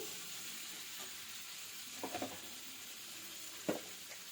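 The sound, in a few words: stirring onions into drumstick leaf tomato chutney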